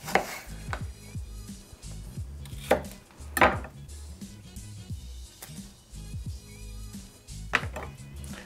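A knife cutting thin slices of apple on a board gives a series of sharp, close chopping knocks at an irregular pace, with some clatter between cuts and no voices.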